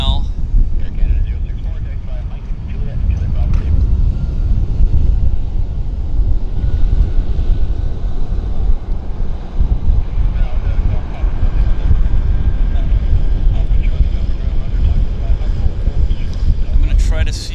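An Air Canada Boeing 737 MAX airliner bound for Edmonton rumbles in a steady low roar, with wind buffeting the microphone and a person talking over it throughout.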